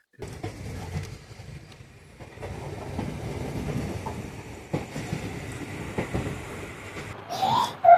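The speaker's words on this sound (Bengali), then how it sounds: "আমাদের ট্রেন তার নির্ধারিত সময় থেকে 8 মিনিট লেটে শিয়ালদা স্টেশনে ঢুকছে" The 13142 Teesta Torsha Express rumbles steadily with rhythmic wheel clatter, loud and close, ending in a brief high screech of brakes as it pulls into Sealdah station.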